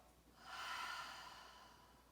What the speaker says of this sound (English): A complete exhale through the mouth.